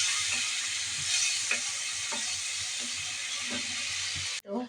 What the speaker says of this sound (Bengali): আর এদিকে আমি মশলাটা কষিয়ে নিচ্ছি চিংড়ি দিয়ে।